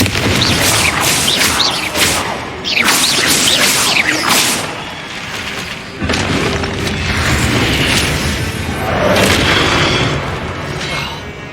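Confringo blasting spells in Hogwarts Legacy set off loud, overlapping booming explosions with swooshing spell casts, forming a continuous barrage of blasts throughout.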